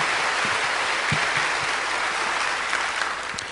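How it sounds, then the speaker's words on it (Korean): Dense applause from an audience at a Christian education gathering as teachers in the crowd are honored, a steady wash of many hands clapping throughout with no talk. "이분들이 이제 교사들인데 박수를 한번 쳐주시죠"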